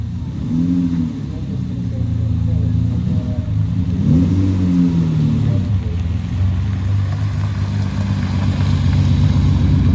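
A 1962 short-wheelbase steel-bodied car, an award winner at a palace concours parade, runs with a steady low engine note and a couple of rising revs, while a voice speaks over it throughout.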